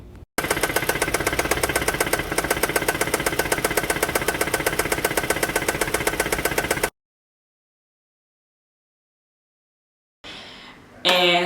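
A car engine with problems, knocking in a fast, steady metallic rhythm, loud and close for several seconds, then cutting out to silence before a brief burst of other noise.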